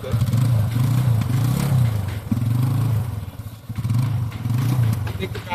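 A TVS Apache RTR 160 2V motorcycle engine runs close by, a steady low drone that swells and dips in repeated rev cycles, with a voice talking over it.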